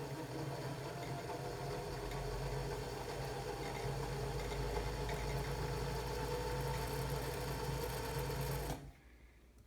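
A vintage Singer Stylist 513 sewing machine winds a bobbin with a steady, close motor whir and hum that runs evenly for about nine seconds before stopping abruptly into quiet.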